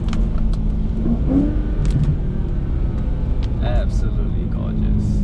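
A BMW E93 M3 convertible's 4.0-litre V8 rumbles and revs steadily in traffic with the top down, loud and close, while people talk over it throughout.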